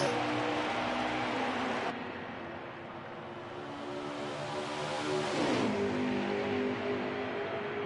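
Simulated race cars thunder through a restart at Pocono in a racing video game, a dense steady engine roar with pitch shifts as the pack accelerates, loud and continuous with no talk.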